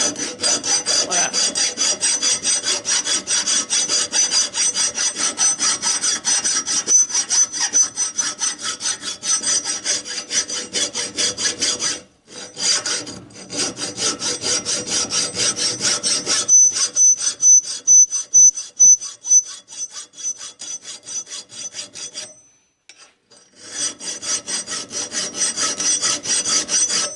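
A steel steering pivot from a Traction 11 front axle is clamped in a vise and filed flat, with long, regular rasping strokes in a steady rhythm and brief pauses between runs, close and alone.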